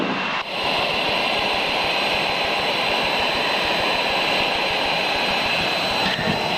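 Steady, loud roar of an airplane's jet engines in flight, a continuous broadband drone with a tonal hum, heard from inside the cabin without interruption.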